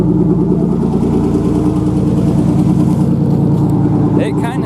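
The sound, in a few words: V6 engine with custom exhaust and headers idling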